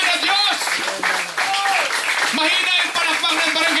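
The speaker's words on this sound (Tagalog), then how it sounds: "Bigyan nga po natin ng palakpak para sa ating buhay na Diyos." A congregation claps steadily for God at a church fellowship's first anniversary service in Pangasinan, the applause dense and continuous beneath a loud voice speaking over it.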